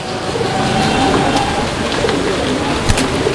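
Madrasi golla pigeons cooing at a pigeon seller's stall, soft low coos set under steady broadband background noise with a brief bump near the end.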